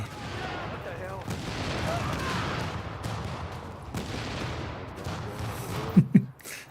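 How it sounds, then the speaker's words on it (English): Dense video-game combat in The Division, with sustained gunfire and explosions rolling together, two sharper booms near the end, and a voice talking over the din. "All the explosions."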